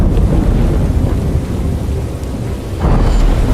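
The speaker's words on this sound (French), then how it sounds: "La pluie, elle augmente" Heavy rain on a desert island with a low, rumbling roar of thunder or wind-buffeted downpour, loud and continuous, swelling again toward the end, no talking.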